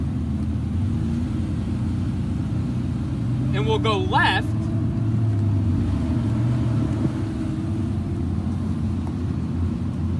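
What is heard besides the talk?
car driving through school grounds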